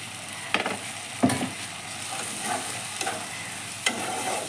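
Spice paste of chilli and turmeric powder, dissolved in water, cooks down with prawns in a pan. A soft continuous sizzle is broken by several sharp spatula scrapes and stirs at irregular intervals.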